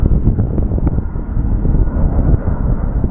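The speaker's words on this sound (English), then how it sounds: "The wind is picking up, it's pushing me." Strong gusty wind buffets the microphone at Phoenix Sky Harbor Airport, a loud continuous low roar that rises and falls without pause.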